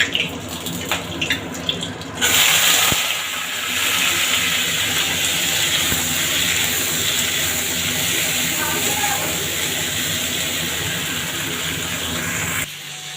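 Okra frying with salt and turmeric hisses quietly at first, then breaks into a loud, sustained sputtering sizzle when water from a wet spatula hits the hot oil, before cutting off abruptly near the end.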